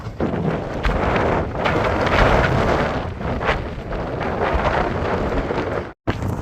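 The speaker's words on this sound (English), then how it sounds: "It's a bit windy." Strong wind gusts buffet the microphone on a Scottish road trip, a loud, continuous roaring rush that swells and ebbs, cutting out briefly near the end before resuming.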